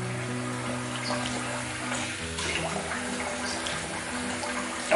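Tap water runs steadily at a bathroom sink as shaving lather is rinsed off a face after a wet shave, a continuous close splashing flow with no talking.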